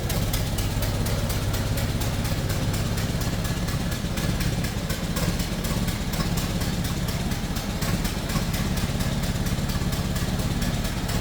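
A 1926 Ford Model T Coupe's engine idles from behind the car, a rapid, even chugging putter that stays loud and steady throughout.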